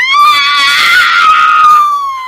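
A girl lets out a single sustained, high-pitched scream of horror, loud and close, wavering slightly before cutting off after about two seconds.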